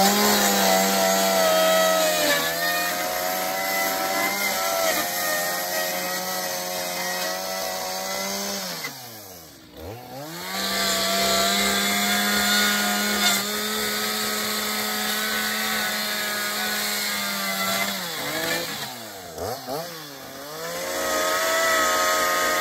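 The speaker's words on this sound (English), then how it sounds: "Let's cut it with the chainsaw." A chainsaw roars loudly and continuously, its engine pitch dipping briefly twice as it bites into the cut before revving back up.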